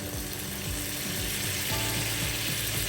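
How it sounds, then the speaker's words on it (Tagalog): Shrimp dropped into a pan of cooked tomatoes sizzle loudly and steadily, a close, continuous frying hiss with faint stirring scrapes and no voices. "Ngayon naman i-add na natin yung ating shrimps."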